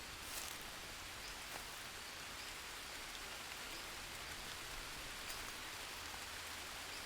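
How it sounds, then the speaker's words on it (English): Steady rain in the survival video game Green Hell patters softly and continuously, a quiet hiss of drops with no voices. "it's starting to rain as it's getting dark"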